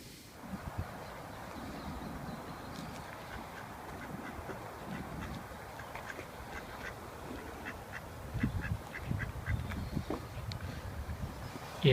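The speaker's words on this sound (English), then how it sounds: "Yes, wall ducks." Ducks sitting on a wall beside a river quack faintly in a scattered, irregular way under a steady outdoor background hum, with a slightly busier cluster of calls toward the end.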